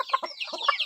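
Free-range village chickens clucking nearby in a brief, quick burst of several short clucks, with no other sound around them.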